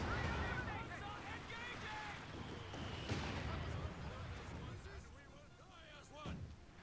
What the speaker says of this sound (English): here comes yet another Stuka barrage